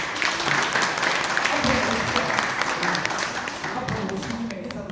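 Applause at a regional basic-society committee policy discussion in Gyeongnam, a steady crowd clapping that fills the whole stretch, with voices mixed in beneath it.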